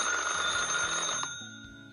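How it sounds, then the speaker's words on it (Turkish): A twin-bell alarm clock rings with a steady, sustained metallic tone that fades off toward the end, with a low hum underneath. "zil işareti bulunan düğmeyi kullanıp güçlü çift çan alarmı ile"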